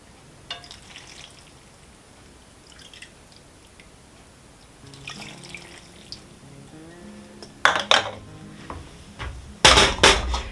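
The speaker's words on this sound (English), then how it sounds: "And now I'm going to add in 2 cups of broth." Broth is poured from a container into sourdough stuffing with celery, onions and garlic, giving a quiet trickle and a few wet splashes, then louder clattering and sloshing near the end.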